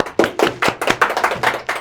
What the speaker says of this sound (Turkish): Ordu için bir alkış.